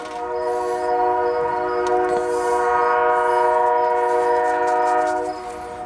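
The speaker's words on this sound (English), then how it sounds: "Clear line to the train." A train passes near a house, its horn blaring in long sustained layered tones that swell and hold for several seconds, loud and fairly close, with wheel rumble beneath and no talking.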